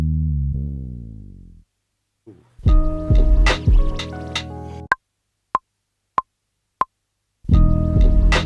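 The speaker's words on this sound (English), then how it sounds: "This is a super nice bass sound" Deep synth bass notes play loudly in a short phrase, followed by layered electronic tones, a few sharp clicks and another bass-heavy burst.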